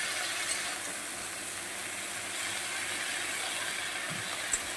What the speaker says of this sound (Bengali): কুমড়ো শাকটা কিন্তু সুন্দর করে ঢেকে ঢেকে ভাজতে হবে, যাতে ভালো করে সেদ্ধ হয়ে যায়।